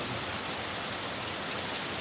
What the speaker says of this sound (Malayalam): ഇപ്പോൾ എറണാകുളത്ത് രണ്ട് ദിവസമായി ഇടതടവില്ലാതെ മഴ പെയ്തുകൊണ്ടിരിക്കുകയാണ്